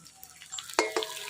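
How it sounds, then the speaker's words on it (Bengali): Potatoes frying in oil in a village kitchen: a quiet background sizzle broken by two sharp scraping stir strokes in quick succession, near and brief. "আলু ভাজা হয়ে গেছে, আলুগুলো এবার তুলে নেব।"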